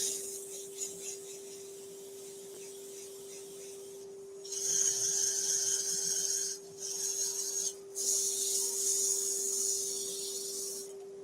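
A wooden pencil pot is rubbed with 180 grit sandpaper in long rasping strokes, three separate bursts with brief pauses between them, over a steady electrical hum after a quiet opening.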